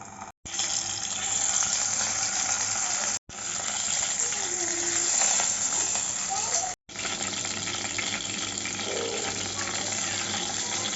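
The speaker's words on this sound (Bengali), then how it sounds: "তেলটা গরম হয়ে গেছে এখন মাথাটা ভেজে নিচ্ছি" Steady, loud hiss of a hilsa fish head frying in hot oil, a broad crackling wash that runs continuously with a few brief dropouts.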